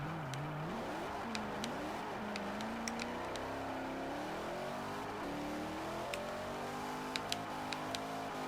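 A Corvette ZR1 engine drifting in Forza Motorsport 4, revving steadily with rising and falling pitch and sharp clicks scattered throughout, with no talk.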